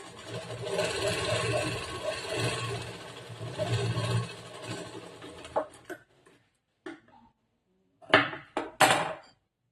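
A sewing machine stitching a blouse seam hums in a steady mechanical run close by for about six seconds, then stops, followed by a few short clicks and bursts as the fabric is moved and stitching restarts.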